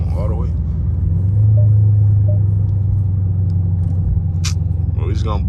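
A straight-piped second-generation Dodge Charger R/T rumbles steadily with a deep, loud, constant drone from inside the car, swelling slightly partway through, with brief voices at the start and end.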